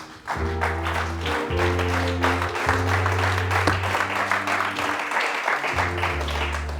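A church congregation claps and cheers in praise, steady applause running throughout over sustained organ or keyboard chords that shift every second or so.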